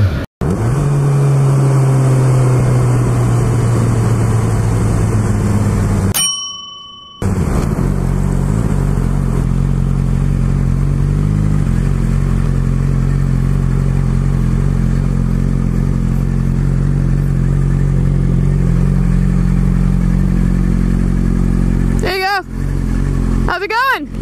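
A motorcycle rides on an open road, its engine droning loud and close with steady wind rush. A brief dropout interrupts it and a short rustle comes near the end.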